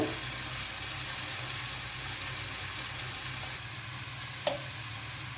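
Tomatoes go into a frying bottle gourd and groundnut curry, which sizzles steadily and close up. A brief clink of a utensil against the pan breaks through the hiss.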